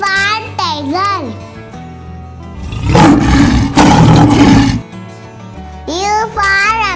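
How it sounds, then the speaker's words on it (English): A tiger roars loudly for about two seconds in the middle, and a voice speaks before and after it. "T for tiger."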